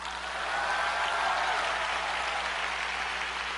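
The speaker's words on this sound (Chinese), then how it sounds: "鼓掌就鼓掌吧" Audience applause at a conference-style talk event, a steady wash of clapping from many hands sustained evenly for a few seconds, moderately loud with no speech.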